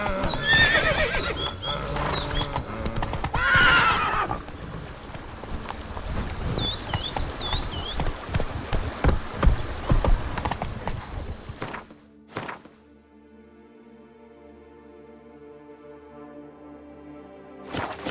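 Roach, the horse in The Witcher 3, gallops with rapid hoofbeats and lets out whinnies over wind, then the sound cuts to near quiet before a few faint clip-clops resume.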